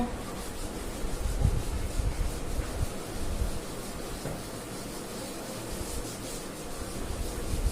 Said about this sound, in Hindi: चलिए दोस्तों आगे रब कर दे इसको।